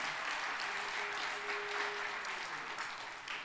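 A church congregation at a Korean revival meeting applauds in thanks, a steady dense wash of clapping from a large crowd sustained at even volume for the whole stretch, with a faint sustained tone briefly audible underneath.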